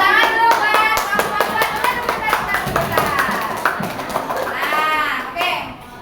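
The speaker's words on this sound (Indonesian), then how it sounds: "Ya, tepuk tangan dulu buat" Students in a classroom clap for a group, a burst of sharp, fairly rhythmic hand claps close by, mixed with lively children's voices and calls.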